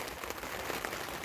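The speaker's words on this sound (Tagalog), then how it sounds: "Umuulan siya." Rain falls outside an open-air dirty kitchen where beef stew with vegetables cooks over charcoal, a steady broadband patter and hiss with no talking.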